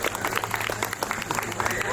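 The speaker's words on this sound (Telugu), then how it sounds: "క్లాప్స్ కొట్టచ్చు." Audience applause at a gathering honouring a great director, dense clapping mixed with crowd murmur continuing steadily throughout.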